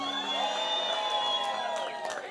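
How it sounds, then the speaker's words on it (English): Crowd at a National Night Out community evening in Dorchester, a dense steady wash of voices with cheers and whoops sustained throughout, fairly loud and continuous. "What a great crowd we have here tonight."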